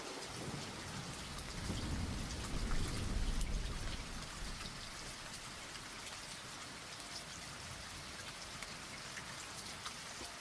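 Steady rain patters and hisses at night with a low rumble of thunder swelling and fading early on, then continues as an even, quiet downpour.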